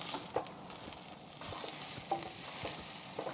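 Fish grill in a wire basket on a barbecue turned to maximum heat for a beer fish dish, giving a steady close sizzle and crackle with a few soft clicks and no talking.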